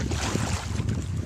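Strong wind buffets a fishing boat at sea, a steady low roaring rush close to the microphone with no voices, brief and continuous.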